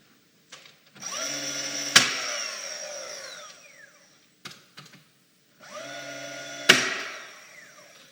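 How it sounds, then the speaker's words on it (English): Pneumatic nail gun driving nails into a wood mantel piece: two sharp shots, each followed by a ringing, slowly fading hum, with a few smaller clicks between them. "What I'm going to do is I'm going to be nailing from both sides to try and kind of keep it centered up."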